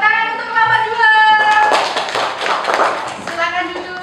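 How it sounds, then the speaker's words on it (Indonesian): A classroom of children claps for a group, a burst of mixed applause lasting a couple of seconds, with voices speaking just before and after. "Tepuk tangan untuk kelompok"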